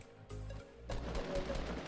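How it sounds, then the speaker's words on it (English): A sniper rifle in the video game Fortnite fires two fairly quiet shots about half a second apart, each leaving a short tail. "I sniped him once again."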